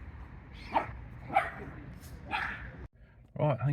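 Several dogs, including bigger ones, give a few sharp barks spaced about half a second apart, moderately close, followed by a brief gap and a quieter yip.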